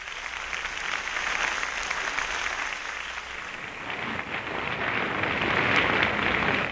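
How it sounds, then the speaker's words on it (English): Sustained applause from a concert-hall audience, joined by the standing orchestra, after a Toscanini symphony performance; dense, steady clapping that holds at an even level throughout with no voices. "The members of the orchestra are now standing, joining with them in the applause."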